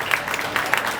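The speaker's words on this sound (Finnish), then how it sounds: "Annetaan hänen raikuvat aplodit" Audience applause greeting the winner of an indoor sailing championship final race, a steady one-second wash of clapping at moderate level with a few sharper claps standing out.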